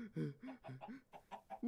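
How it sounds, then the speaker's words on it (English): A cartoon chicken from a Minecraft animation, a run of short, uneven clucks in quick succession, fairly close and clear with no talk over it. "There's a chicken."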